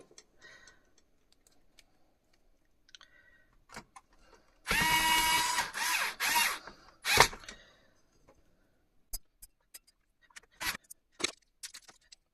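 Power screwdriver driving mounting screws for a hard drive into a Humax HDR 1010s Freesat receiver: a loud burst of whirring for a few seconds, then scattered clicks and taps nearby.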